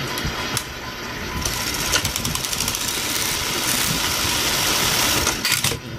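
A Juki buttonhole sewing machine runs with a continuous fast mechanical whir and rattle, steady and close, with no talking.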